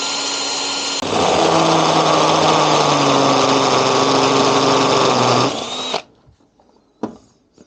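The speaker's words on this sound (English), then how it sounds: "a stepper drill bit, I think that's what they're called, but it goes through metal real easy" A power drill with a step bit whines steadily through metal for several seconds at close range, then winds down, followed by a few faint clicks.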